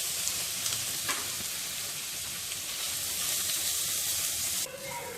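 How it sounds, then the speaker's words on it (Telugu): Grated carrot fries in ghee for carrot laddu, a steady bright sizzle that hisses continuously at moderate level, with faint stirring scrapes and a slight change in texture near the end. "తరువాత ఇదే నెయ్యిలో క్యారెట్ తురుమును వేసుకొని వేయించుకోవాలి."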